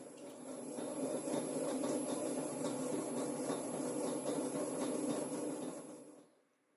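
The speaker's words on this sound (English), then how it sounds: "The wheel running more slowly now than it was when I was centering." A pottery wheel spins slowly while a clay cylinder is thrown, giving a soft steady rubbing whir with faint scraping. The sound drops away near the end, and no one speaks.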